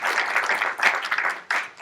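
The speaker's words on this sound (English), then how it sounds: "So again, another round of applause for Mr." An audience at a university sports communication careers panel gives a round of applause for a panelist. Dense, close crowd clapping holds steady, then dips and surges again.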